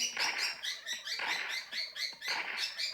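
Busy, nearby chirping of small birds in repeated bursts, a continuous twittering chatter rising and falling every second or so, with no talk.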